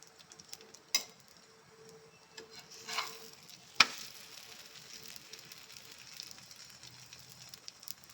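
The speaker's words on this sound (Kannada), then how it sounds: "ಸ್ವಲ್ಪ ಎಣ್ಣೆ ಹಾಕೋಣ ನಿಮ್ಗೆ ಬೇಕಾದರೆ ತುಪ್ಪ ಹಾಕ್ಕೊಂಡು ಸುಟ್ಕೊಳ್ಬೋದು" Sesame-filled obbattu flatbread roasts in oil on a pan, giving a faint, soft sizzle with a few sharp clicks and scrapes from turning it; no voices.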